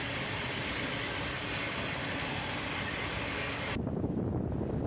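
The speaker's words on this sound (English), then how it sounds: "A single locomotive on the head end," A freight train led by a single locomotive crosses a river bridge, giving a steady, loud rumble of rolling wagons that carries through the whole stretch and deepens slightly near the end.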